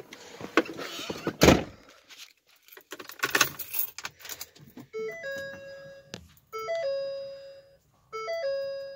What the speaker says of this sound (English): I'll just close the door.